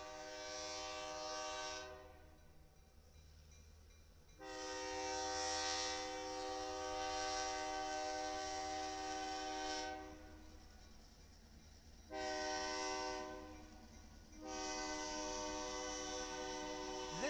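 An SD45 diesel locomotive, built in 1973 for Cotton Belt and later run by Bessemer and Lake Erie and Canadian National, sounds its chord horn in several long blasts with short pauses while a train rumbles beneath.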